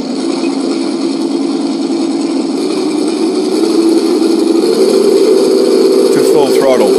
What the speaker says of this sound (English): as you go into motion, there's a transition sound that moves from idle to motion